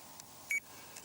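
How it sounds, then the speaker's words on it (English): A bite alarm on a winter river pike fishing rig gives a single short, high electronic beep over quiet outdoor background noise. "I'll just turn the alarm off again because it's annoying."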